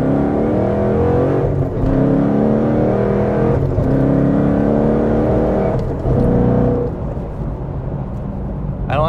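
Manual transmission car pulling hard through quick gear shifts: a loud, near engine roar rising in pitch, dropping briefly at each of three rapid shifts before climbing again, then easing off at the end.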